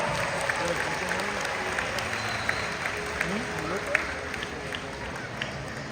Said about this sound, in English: Everyone give yourself a round of applause for helping us out.